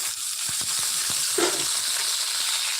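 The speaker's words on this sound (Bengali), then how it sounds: "এখানটায় দিয়ে দেবো কিছু টমেটো কুচি" Chopped tomatoes hitting a pan of frying grated ginger, a close, steady sizzle with a short louder burst in the middle and faint stirring scrapes, no voices.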